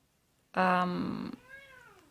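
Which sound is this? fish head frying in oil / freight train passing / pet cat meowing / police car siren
pet cat meowing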